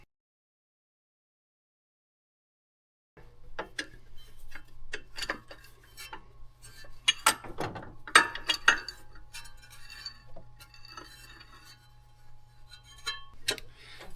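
Ratchet working on the timing cover hub bolts of a 12-valve Cummins engine: quiet clicking and metallic taps follow a few seconds of silence, with a few louder clanks in the middle, heard close and with no talking.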